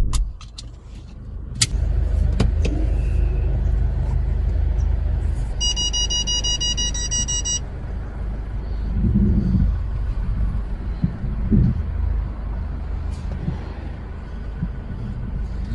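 Diesel car engine held at raised revs to heat and clean a faulty DPF: a steady loud low rumble running throughout, with a few clicks and a brief high electronic beeping midway.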